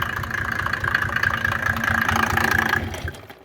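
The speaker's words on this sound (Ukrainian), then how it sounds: "Подивись, будь ласка на роботу двигуна і на виконання роботи самої насосної станції." A 3.0 diesel engine driving an irrigation pump station, idling with a steady rapid chug and a constant mechanical whine, loud and close, then cutting off near the end.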